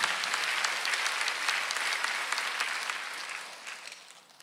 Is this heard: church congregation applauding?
yes